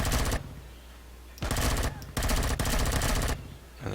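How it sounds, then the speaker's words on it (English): An enemy drone fires rapid machine-gun bursts in the Empyrion Galactic Survival game, loud and close, in four or five separate volleys with short pauses between them. "As you can hear, we're getting shot at again."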